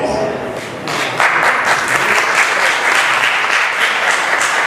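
Audience clapping at a talk, starting moderate then swelling louder and denser after a second and sustaining strongly to the end.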